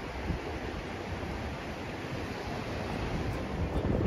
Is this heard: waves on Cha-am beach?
yes